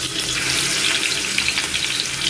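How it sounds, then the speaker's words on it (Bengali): Coral fish seasoned with turmeric and chili frying in a pan, a steady close hiss and crackle of hot oil throughout, loud and unbroken with no talking. "এখন ভাজবো আজকে যে কোরাল মাছ রান্না করব"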